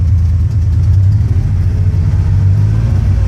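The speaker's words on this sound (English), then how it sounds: "put it in gear. No, okay, give it some gas" A car engine idles low and steady with a slight rising rev, heard from inside while a driver learns to work a stick shift, continuous and loud throughout with no talking.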